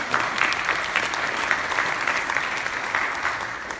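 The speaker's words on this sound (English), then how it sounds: "So I would like to give you a round of applause on that." Audience applause fills a town hall meeting for Congressman Ro Khanna, a thick, continuous patter of many hands clapping at a steady level with no voices breaking through.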